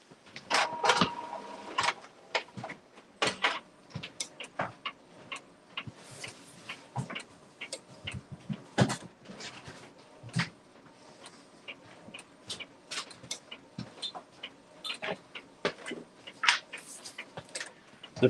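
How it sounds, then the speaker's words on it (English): A printer working through a full page with special inks, giving steady faint ticking and clicking mechanical sounds with small whirs, alone without talk throughout. "And you'll hear the printer."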